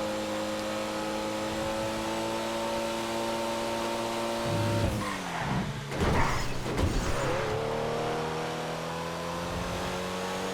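Car engine racing in GTA Online, a steady loud drone with rising and falling pitch as it revs, broken around the middle by a burst of skidding and rough engine noise before the steady tone returns.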